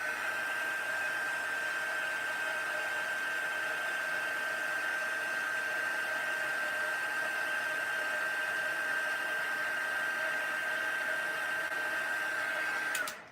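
A heat tool blows steadily over embossing powder on cardstock, a constant loud whir with a high whine that runs uninterrupted for about thirteen seconds, then cuts off at the end.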